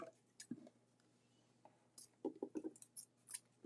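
Scissors cutting paper for a Valentine craft, quiet close snips coming in small clusters separated by pauses, with faint handling rustles.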